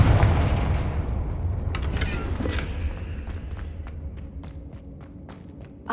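Confringo fire-spell explosion in the Hogwarts Legacy game, a heavy close boom that fades into rumbling debris, followed by scattered sharp clicks and footsteps.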